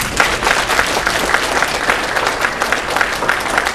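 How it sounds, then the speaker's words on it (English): An audience at a county judicial forum applauds Mr. Shaprinsky with dense, even clapping that holds steady and fairly loud from start to finish. "I think we should give Mr. Shaprinsky a round of applause for what he did."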